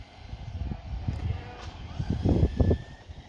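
Radio-controlled cars, a Tamiya TT01 and a Kyosho Fazer Mk2, racing on the last lap. A fluctuating electric motor whine and rolling noise rises and falls, growing louder with a couple of strong surges near the end.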